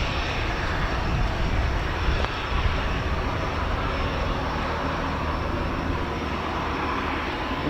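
An RAF Embraer Phenom from 45 Squadron, RAF Cranwell, arriving at RAF Fairford for the Royal International Air Tattoo: a loud, continuous jet engine rush with a low rumble, fairly close and steady throughout, with no voices.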